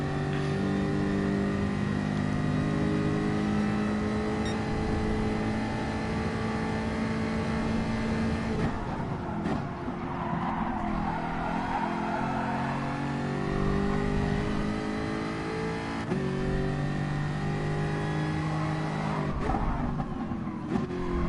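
A race car engine in GT Sport screams continuously at high revs, rising and falling through gear changes with brief lifts off the throttle, loud and up front with no talking.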